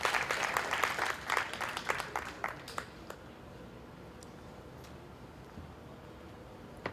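Audience applause at a Karachi talk on truthfulness and journalism, welcoming the speaker to the stage: dense clapping for about three seconds that thins out and stops, leaving a quiet room.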